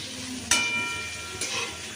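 Cabbage and other vegetables frying in a pan for fried rice, a steady close sizzle with two brief louder bursts of stirring or added ingredients, no voices.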